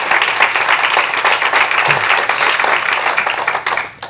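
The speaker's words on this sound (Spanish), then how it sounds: "¿Habrá alguien que quiere ahora darle un fuerte aplauso a Cristo?" A church congregation gives Christ a strong round of applause, dense sustained clapping filling the room for several seconds before tapering off at the end.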